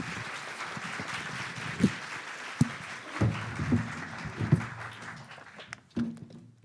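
Steady applause from a crowd fills the room for several seconds at a Korea Electric Power Corporation recruitment briefing, with a few louder claps and thumps standing out.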